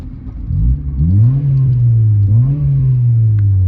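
A Honda Civic EK sedan's small engine revs up twice, its pitch climbing and then holding a loud droning whine, with a raspy exhaust note from a new exhaust close by.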